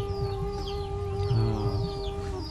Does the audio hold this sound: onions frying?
no